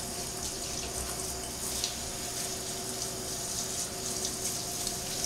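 Shower water runs over a dog. A steady, even hiss of spray continues throughout, with no voices.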